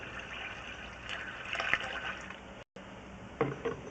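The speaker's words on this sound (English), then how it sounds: "That was like a gallon jug of water there I just poured through there, relatively steady, and it seemed to drain through." A gallon jug of water pours steadily down a drain pipe, heard from inside the pipe as a running, gushing flow with a brief dropout near the end, and no talking.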